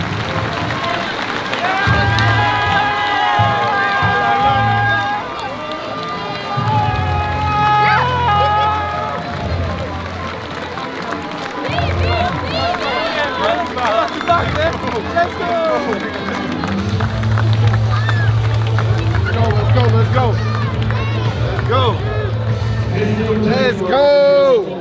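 At a basketball game, a crowd in an arena applauds and cheers, a sustained, broad roar of clapping and voices under an announcer and nearby talk, with horn-like tones sounding through.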